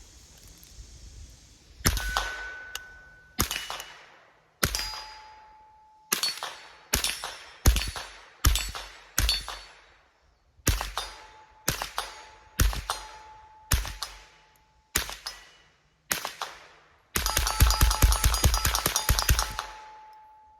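.22LR rifle shots from a CMMG conversion kit go off while plinking, each sharp crack followed by a ringing ping. They come singly at irregular intervals, then as a fast string near the end.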